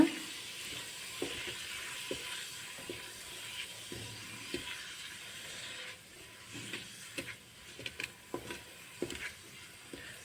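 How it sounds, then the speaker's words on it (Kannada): Eggs fry in oil over a low flame, a quiet steady sizzle broken by intermittent taps and scrapes of stirring. "ಇದನ್ನು ಸ್ವಲ್ಪ ಥರ ಎಣ್ಣೆಯಲ್ಲಿ ಚೆನ್ನಾಗಿ ಫ್ರೈ ಮಾಡ್ಕೋಬೇಕು ಮೊಟ್ಟೆನ"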